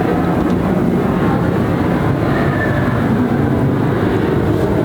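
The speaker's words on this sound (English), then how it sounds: "here's a plane" An airplane passes overhead as a steady, broadband roar that holds at an even level throughout, with no talking over it.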